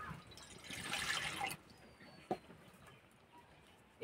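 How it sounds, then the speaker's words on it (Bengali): Water pours into a wok on a stove, a close splashing rush for about a second and a half before it stops, then quiet with a sharp knock and another click later. "কড়াই দেবো জল"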